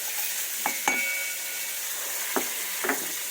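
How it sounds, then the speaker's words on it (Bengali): Bitter gourd (karela) sizzles steadily in a hot pan, a constant hiss broken by a few sharp scrapes and knocks of a utensil stirring the pieces. "চলুন করলা সুন্দরী ভাজা হোক"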